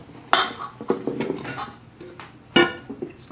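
Metal bowls and utensils clink and clatter while chocolate for a gluten-free chocolate soufflé is moved into a larger bowl, with a few sharp knocks and lighter scraping taps, close and without talk.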